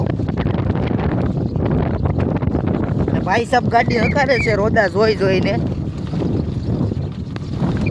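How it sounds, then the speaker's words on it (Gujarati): Heavy wind roars across the microphone outdoors, buffeting constantly while someone talks over it throughout. "પવન એ છે થોડોક વધારે પડતો"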